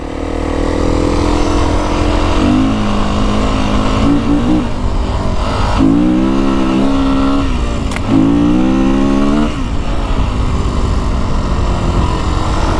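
A 2025 Beta 350RR X-Pro dirt bike engine revs and accelerates up close, loud and continuous, its pitch rising and falling in several repeated surges through the gears over about thirteen seconds.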